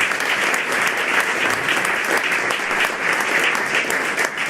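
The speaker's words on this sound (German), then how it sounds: "allen mal im Globo einen riesen Applaus und danke vielmals für die Unterstützung" A loud, sustained audience applause fills the hall at the Prix Walo final in Birr, with continuous dense clapping close and even throughout.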